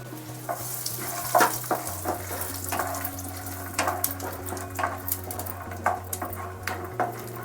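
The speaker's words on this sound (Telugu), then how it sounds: "ఆయిల్ వేసిన తర్వాత కొంచెం ఆయిల్ వేడెక్కిన తర్వాత ఈ పల్లీలు వేయించుకున్నాను" Peanuts fry in a little hot oil for a makhana chaat snack, a soft, steady sizzle with occasional stirring clicks, fairly quiet over a low electrical hum.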